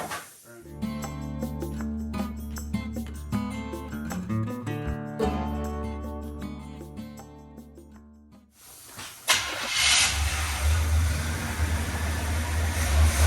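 A 1981 GMC C10 pickup truck's engine cranks and fires: a long stretch of hard mechanical whirring and tonal noise, then a louder catch into a rough, rumbling idle, close up with no talking.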